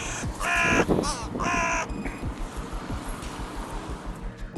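A crow caws several times, loud and close, in a quick burst of harsh calls near the start, followed by a quieter stretch of outdoor background noise.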